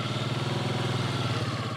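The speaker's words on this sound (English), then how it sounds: "He has to get his motorbike over himself." A motorbike on a rough jungle track in Cameroon runs with a pulsing, uneven engine chug and faint clatter, moderately close and steady over the short span.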